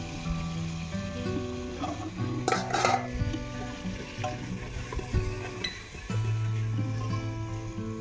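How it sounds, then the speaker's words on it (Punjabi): A ladle works through milk simmering in a pan as it slowly reduces toward khoa, giving soft scraping strokes and occasional metallic clinks over a low, steady background hum. "ਹੁਣ ਕੜਛੀ ਫੇਰੀ ਜਾਣਗੇ, ਅਤੇ ਹੌਲੀ ਹੌਲੀ ਜਿਹੜਾ ਦੁੱਧ ਘੱਟਦਾ ਜਾਊਗਾ ਅਤੇ ਇਹਦਾ ਖੋਆ ਬਣ ਜੂਗਾ।"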